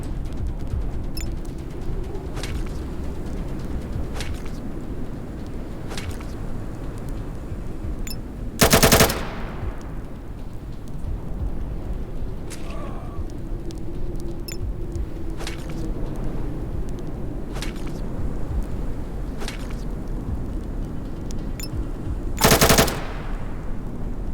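Machine gun fire in the video game ATOM RPG: Trudograd comes as two short, loud bursts far apart over a steady low background rumble, with no talking.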